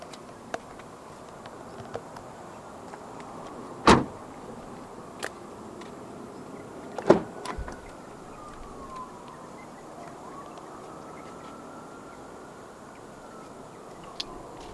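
Power windows in a 2024 Ford Everest 2.0 4X4 Titanium move with a faint, steady motor whine inside a quiet cabin, broken by a few sharp switch clicks.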